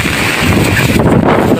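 Strong typhoon wind roars and buffets the microphone in a loud, continuous rush, with a brief dip near the end.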